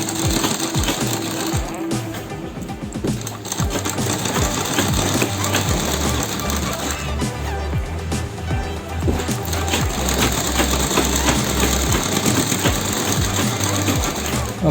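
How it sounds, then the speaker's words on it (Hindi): A sewing machine stitches a double piping border onto cloth, with a steady, loud, close mechanical chatter that runs nearly the whole time and only brief changes in pace. "पाइपिंग के बिल्कुल साथ साथ सिलाई यूज करनी है"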